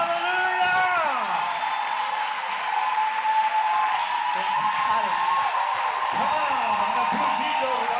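Church congregation applauding steadily throughout, a dense continuous clatter of hands with cheers and voices mixed in, accompanied by sustained music tones underneath.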